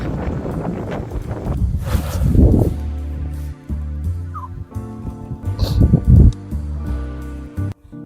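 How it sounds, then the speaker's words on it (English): Gusty wind buffets the microphone in loud rumbling bursts outdoors in open fields, rising and falling over a steady musical background. "It's a bit windy, it's a bit nippy."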